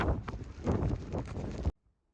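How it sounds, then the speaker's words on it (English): Strong blizzard wind off Lake Erie near Buffalo, gusting up to 80 miles an hour, roars in loud, rough bursts against the microphone for under two seconds before cutting off to silence. "Winds have gusted up to 80 miles an hour already"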